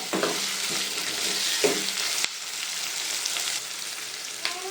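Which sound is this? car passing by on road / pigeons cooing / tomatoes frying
tomatoes frying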